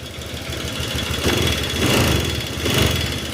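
A Honda Click 150 scooter engine idles and revs up in surges, running rough with a persistent ticking, clattering valve noise under the hum.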